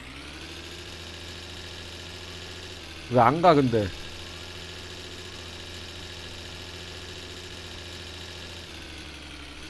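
A car engine idles steadily in the video game My Summer Car, humming throughout, with a brief burst of a voice talking over it midway.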